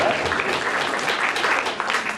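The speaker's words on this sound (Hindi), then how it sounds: "तालियां हर एक ने बजाना" Audience applause at a motivational talk, a steady dense wash of clapping from a large crowd that holds continuous and fairly loud throughout, with no voices rising above it.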